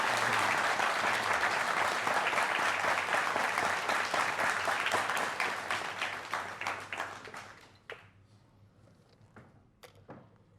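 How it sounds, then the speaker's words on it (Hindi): Loud, dense audience applause on a stage interview program for Dhirendra Krishna Shastri, sustained for several seconds before thinning into scattered claps and fading out. "एक बार फिर जोरदार तालियां धीरेन्द्र कृष्ण शास्त्री जी के लिए।"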